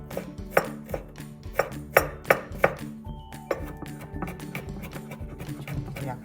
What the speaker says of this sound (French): Ensuite, on va découper l'ail en petits morceaux.